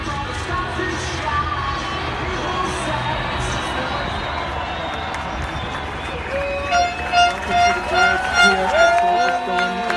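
Large crowd at the Formula 1 British Grand Prix grid in 2017 roars and murmurs steadily from a distance as drivers pass, with voices talking nearby and louder swells of cheering near the end.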